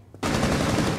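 A sudden, sustained burst of rapid automatic gunfire in Rainbow Six Siege, loud and close, starting abruptly after a brief quiet moment.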